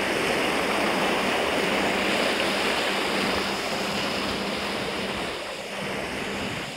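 Water of the Río Loure rushing steadily in a broad, constant roar close by, a little softer toward the end, with no voices.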